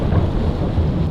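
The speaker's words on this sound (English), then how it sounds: "there's a full-on rainstorm, thunderstorm." Thunder rolls in a low, steady rumble during a heavy rainstorm, loud and continuous with a broad wash of rain and wind noise and no voices.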